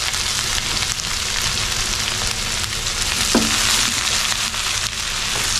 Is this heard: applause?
no